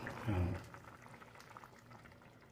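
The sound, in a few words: fish and vegetables in coconut milk boiling in a covered pot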